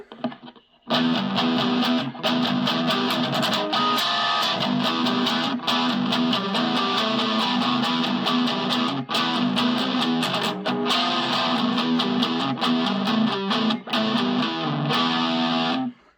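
Heavily overdriven electric guitar through a mini amp (Blackstar Fly or Boss Mini-Katana) on its brown tone setting, chugging and strumming chords continuously, thick and loud, with brief choppy pauses between riffs.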